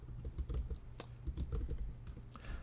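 Quiet, close clicking of a computer keyboard being typed on, an irregular run of keystrokes with no talk.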